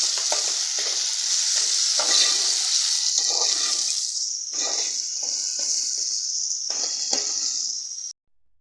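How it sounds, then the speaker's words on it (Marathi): Ivy gourd with tomato and ginger garlic paste sizzles loudly in a hot pan, a bright steady frying hiss broken by repeated stirring scrapes, then cutting off abruptly near the end. "आलं लसूण पेस्ट आहे ती घालते आणि सगळी परत एकदा परतून घेते"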